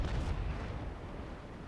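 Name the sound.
ship cannon fire in video game Naval Action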